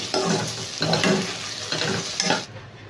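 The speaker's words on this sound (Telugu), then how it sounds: "వంకాయ కూడా ఫ్రై అవుతుంది" Brinjal fries and is stirred in a pan, a continuous sizzle broken by several scraping stirs at a steady rhythm, close and fairly loud.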